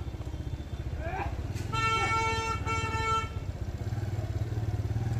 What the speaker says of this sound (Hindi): यहाँ भी भाई बहुत ट्रैफिक रहता है पटना में भी